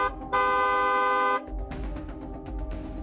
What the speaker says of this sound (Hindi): दूसरों को भी सावधान करने के लिए हॉर्न बजाएं